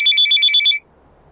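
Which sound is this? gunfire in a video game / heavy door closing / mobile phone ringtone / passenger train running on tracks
mobile phone ringtone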